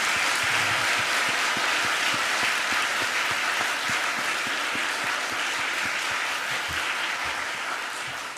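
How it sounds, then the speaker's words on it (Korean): Sustained loud applause from a congregation at a Baptist church pastor's ordination service, steady dense clapping across the whole stretch that thins slightly toward the end. "더 크게 박수 쳐주세요."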